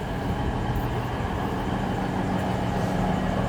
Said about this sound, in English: that's the train that brought me to St. Peter's.